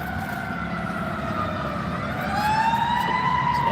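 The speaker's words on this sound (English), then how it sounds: "It's another fire truck" A fire truck siren wails at a large fire in Washington DC, its rising and falling tones sliding upward and growing louder as the engine approaches over a low traffic rumble.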